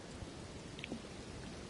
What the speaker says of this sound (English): Damn it, it's raining.